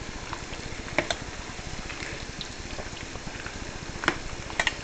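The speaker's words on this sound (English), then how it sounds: "you hear that simmering? This guy's starting to boil again" Creamy white chicken chili simmers and bubbles in a pot, a steady close patter of bursting bubbles with occasional sharper pops, heard alone without talk.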